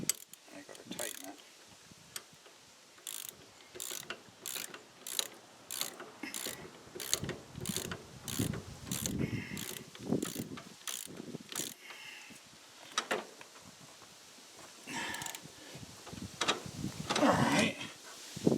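A ratchet wrench tightens a bolt on a Craftsman lawn tractor's steering, giving rapid bursts of close mechanical clicking and short pauses as the handle swings back and forth.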